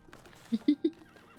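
Horses in the video game Starsand Island, three short soft whinnying calls in quick succession, close and fairly quiet against a faint background.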